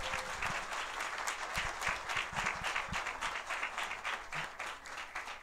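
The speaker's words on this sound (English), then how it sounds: "Please give a big applause to all of them for their good job." A mosque community gathering breaks into steady, close applause for the security team, a dense wash of clapping with a few distinct nearby claps.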